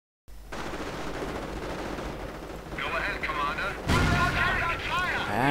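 Tank guns firing in a war strategy video game, a tank destroyer engaging, heard as loud booming shots and battle noise dense throughout, with a commentator talking over the action.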